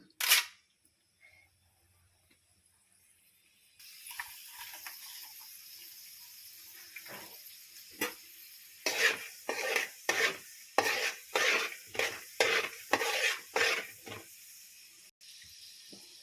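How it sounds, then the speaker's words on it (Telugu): Chana dal dropped into a small amount of hot oil, with a quiet hiss that starts after a few seconds and then turns into a rhythmic series of sizzling, scraping bursts as it is stirred. "శనగబేడలు వేస్తున్నాను"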